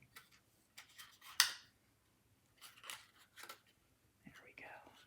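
Paper is cut with a punch while assembling a spring handled treat box, giving a few soft close snips and one sharp crisp snap, with faint breathy voice sounds in between.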